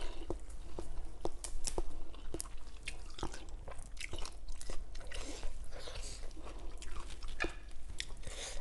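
Chewing crispy pork with rice noodles, crunchy bites and wet mastication sounds close up, irregular crisp snaps scattered over several seconds with no talking.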